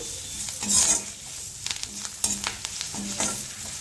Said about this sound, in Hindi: तो इसे भी हम अच्छी तरह से तड़के में मिला लेते हैं